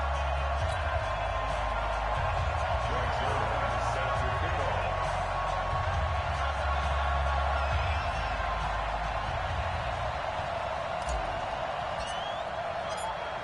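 A steady roar of stadium crowd noise fills an EA Sports NFL football video game as the Tampa Bay Buccaneers and Atlanta Falcons line up, loud and continuous without letup.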